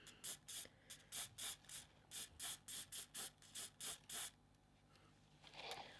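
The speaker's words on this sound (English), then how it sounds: "give it a little spray to seal it" Hairspray hisses onto a glitter-coated bauble ornament in about a dozen short, evenly spaced bursts from a nearby can, followed by a quiet rustle.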